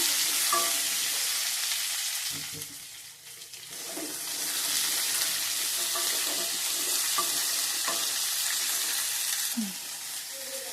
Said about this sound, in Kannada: ಇದನ್ನು ಫ್ರೈ ಮಾಡ್ಕೋಬೇಕು ಸ್ವಲ್ಪ ಹೊತ್ತಿಗೆ ಸ್ವಲ್ಪ ಮೀಡಿಯಮ್ ಫ್ಲೇಮಲ್ಲಿ ಫ್ರೈ ಮಾಡ್ಕೋಬೇಕು ಕ್ಯಾಪ್ಸಿಕಮನ್ನು